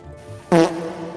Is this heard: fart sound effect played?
yes